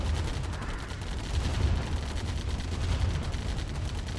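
Defensive turrets firing in the real-time strategy game Command & Conquer: Tiberian Dawn, a dense continuous barrage of rapid gunfire and explosions during a tournament match, loud and unbroken.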